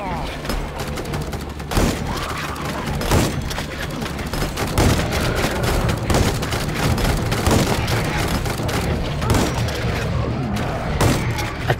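Automated turrets in the video game Days After fire continuously at a crowd of zombies, a dense loud rattle of rapid gunshots with heavy thuds layered on top, sustained throughout.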